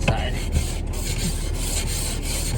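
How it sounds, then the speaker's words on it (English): An ice scraper rasps frost off the inside of a car windshield in short repeated scraping strokes, close and moderately loud, with no talk. "I'm gonna record now while I'm scraping my windshield and my side windows and stuff"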